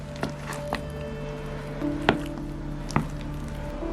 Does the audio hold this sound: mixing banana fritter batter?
yes